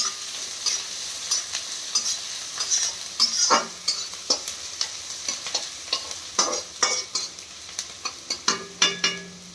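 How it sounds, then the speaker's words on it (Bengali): Oil crackles and sizzles in a pan as onions and green chilies fry, while a utensil repeatedly stirs and scrapes, giving a rhythmic series of clacks over the frying hiss. "কাঁচা লঙ্কা পেঁয়াজটা দিয়ে দিলাম। একটু ভালো করে ভাজা ভাজা হোক।"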